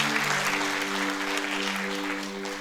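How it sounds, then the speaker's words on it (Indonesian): Steady applause from a church congregation during a sermon, continuous and fairly loud clapping throughout, with a sustained low hum beneath it. "Kalau mau kasih tepuk tangan boleh buat ini ya."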